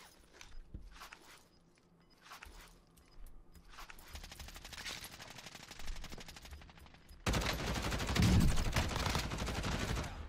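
Gunfire in a battle royale video game: scattered distant shots and footsteps build into sustained rapid automatic fire that turns loud and close toward the end, with no talk.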